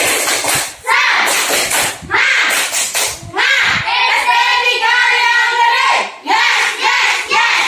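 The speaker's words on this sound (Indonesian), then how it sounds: "coba tepuk semangat" Classroom children perform a rhythmic spirit clap, sharp group claps in patterned bursts mixed with loud chanting voices, close and energetic.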